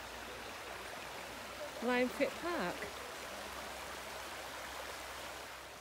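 A river flows steadily beside a dog field at Limefitt Park in the Lake District, its broadband rush continuous and moderately close, with a short burst of speech briefly rising over it.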